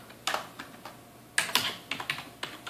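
Keys on a computer keyboard tap out a few quick words in scattered bursts of sharp, close clicks, with short pauses between them in a quiet room.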